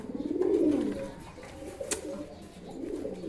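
A pair of local King pigeons coo in soft, throaty rolling phrases close by, one swelling coo followed by quieter ones, with a brief sharp click partway through and no talk over them.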